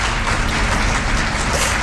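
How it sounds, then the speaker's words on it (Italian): Dense, continuous applause fills the whole stretch, a steady wash of many hands clapping at fairly close range with no individual claps standing out and no one speaking over it. "un applauso"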